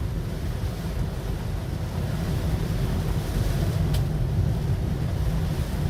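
Heavy rainstorm roars as a steady, dense wash of rain and road noise inside a Tesla Model 3 SR Plus driving in Calgary, Alberta, loud and unbroken throughout.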